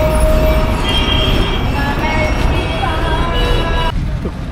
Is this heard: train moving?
yes